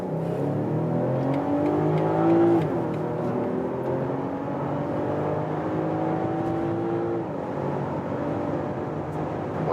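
A BMW X3 M40i accelerating hard on a German Autobahn, its engine droning loudly with rising tones that climb through the gears, steady and continuous from inside the cabin.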